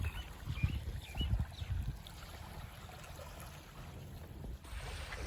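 Water waves crash hard against the shore beside a bridge under construction in Mirpur, a near, rumbling wash of surf that swells loudest early on and then eases into a steadier background rush.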